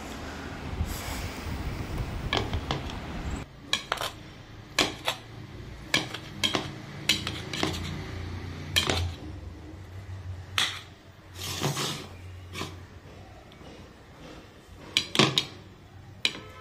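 Paneer is sliced into pieces with a knife in a home kitchen, making a run of sharp, separate knife taps and clicks against a board, close and fairly loud, with some dish clatter early on.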